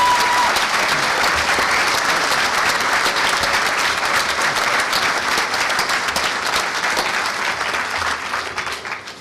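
Sustained audience applause at the closing ceremonies of The Fifth HOPE hacker conference in 2004, a dense, loud crowd clapping steadily for about nine seconds before starting to taper at the end.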